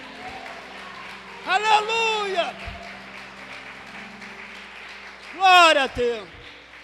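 A church congregation applauds in praise during a worship service, a steady wash of clapping running beneath loud voices shouting praise in Portuguese, swelling twice.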